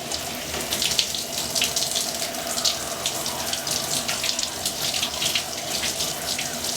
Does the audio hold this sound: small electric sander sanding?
no